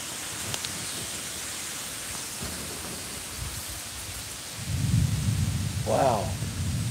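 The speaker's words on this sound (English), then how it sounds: "I just love the sound of thunder." Thunder rumbles low and deep during a windy thunderstorm, swelling in the later part and lingering over a steady hiss of rain.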